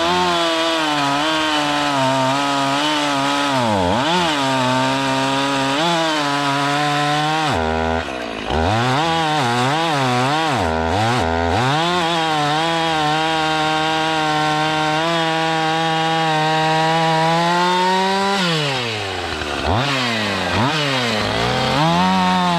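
A chainsaw fitted with a brand-new Oregon chain cuts firewood, its loud engine running continuously close by, rising and dropping in pitch as it bogs into the wood and revs back up, with brief throttle-off dips and no talking.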